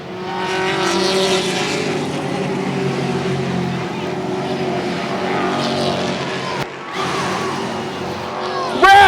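Race cars roaring around a track, engines droning loudly and continuously with a brief dip before the noise returns, under a commentator calling the race.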